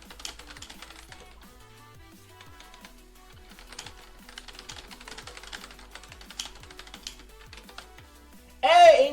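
Light, irregular keystrokes tap on a computer keyboard during a casual livestream, a soft steady patter of clicks with a louder noise burst near the end.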